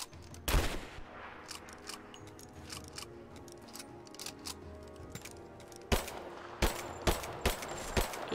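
Auto pistol fire in Rise of the Tomb Raider: one sharp shot early, then a run of separate, evenly spaced bangs toward the end, fairly slow for an automatic, over a steady game ambience with no talk.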